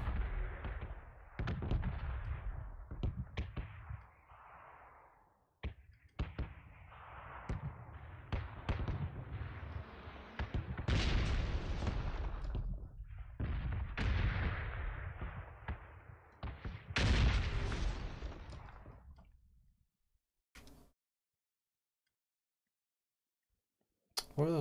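Explosions that sound like bombs in PUBG go off as a run of sharp booms and pops, under players chatting over voice chat.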